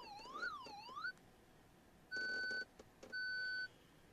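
Reversing parking sensor running its self-test after reverse gear is engaged, giving two steady electronic beeps at moderate level, preceded by a faint warbling tone in the background.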